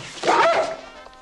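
A dog gives a single short, close bark lasting about half a second, then fades; no one speaks.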